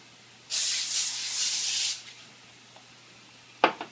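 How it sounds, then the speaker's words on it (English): A single hissing spritz of aerosol vegetable oil spray lasts over a second, followed by quiet and a brief clatter near the end. "give this a quick little spritz with the vegetable spray"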